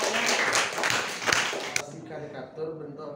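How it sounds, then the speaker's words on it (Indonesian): A classroom full of students claps for a student group after its presentation, a brief burst of dense applause that cuts off abruptly, followed by quieter room noise and faint voices. "Kasih tepuk tangan dulu kelompoknya."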